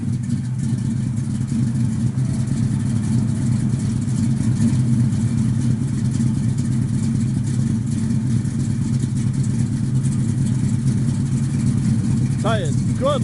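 A 1967 Chevrolet Chevelle Malibu engine idles with a steady, heavy low throb, loud and continuous, with a brief voice near the end.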